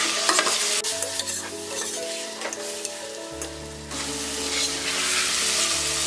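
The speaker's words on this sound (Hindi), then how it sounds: "अनियन से टमाटर फ्राई हो गए हैं।" Tomatoes and onions frying in a pan, a bright continuous sizzle with stirring clatter, close by and steady throughout.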